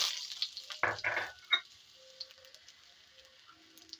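Dried red chillies hit hot oil with mustard seeds for rasam, giving a loud burst of sizzling and spattering over the first second and a half before settling to a faint, quiet crackle.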